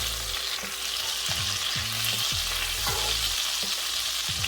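Butter sizzling and frying in pan drippings left from browning drumsticks for a mushroom and onion gravy, a steady close crackle with intermittent low scraping and stirring, no voices.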